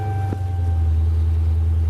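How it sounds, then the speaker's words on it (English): A car engine idling at the Mtn View CDJR dealership gives a steady, deep, low purr close by, loud and even throughout, with no voices over it. "that's what people pay for, that purring sound"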